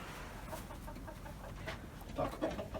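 Hens cluck softly a few times on a farm, faint and near, over a quiet background with no talk.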